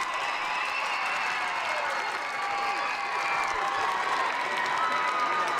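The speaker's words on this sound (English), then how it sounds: "the Rabbit fan base is cheering really loud right now" Loud, steady roar of a football crowd cheering in a stadium during an Atlanta versus New Boston game, a continuous wall of cheers and applause with no break across the whole stretch.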